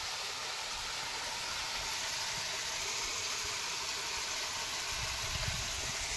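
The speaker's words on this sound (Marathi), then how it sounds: "एकदम कमी प्रमाणात ऊन असून देखील एवढं पाणी आलंय बघा सोलार पंपाला." Water gushes steadily from a 3 HP solar-powered pump outlet on a farm, a dense, continuous hissing rush that stays constant and fairly close with no pauses.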